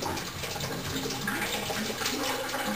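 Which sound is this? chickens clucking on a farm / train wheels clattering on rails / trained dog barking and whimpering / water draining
water draining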